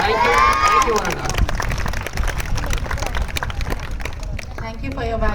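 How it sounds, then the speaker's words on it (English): An audience at a school visit by an IAS officer bursts into sustained applause and cheering, a loud, continuous wash of clapping with crowd babble mixed in. "Once again, a huge round of applause."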